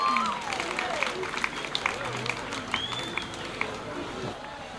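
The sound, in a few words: audience applauding a dance team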